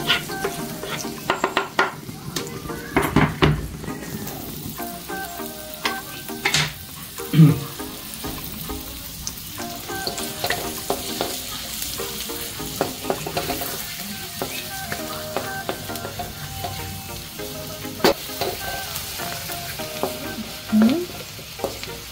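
Garlic sautés in butter in a pan for a seafood dish, with a steady sizzle broken by repeated scraping and stirring clatters of the utensil against the pan.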